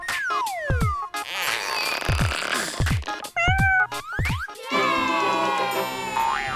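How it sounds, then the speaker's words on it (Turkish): Cartoon-style cat meows, several rising and falling cries in quick succession from a cat stuck in a tree, loud and close, with bouncy sound effects and music around them. "kedimiz ağaca sıkışmış"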